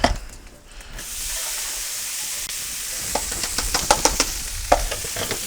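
Rice sizzles and fries on a Blackstone flat-top griddle for hibachi, a steady hiss with scraping, stirring clicks and spatula taps that grow busier toward the end.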